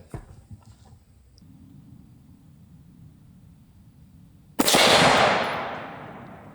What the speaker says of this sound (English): Hit the steel behind it.